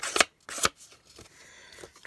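Scissors snip at craft paper to distress its edges for a nautical-themed papercraft project: two quick, crisp cuts close together, followed by faint rustling and scraping of paper.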